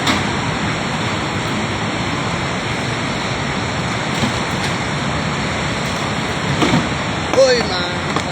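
Floodwater rushes through Rasuwa District, Nepal, as a loud, continuous roar of churning water that holds steady throughout, with a brief faint cry near the end.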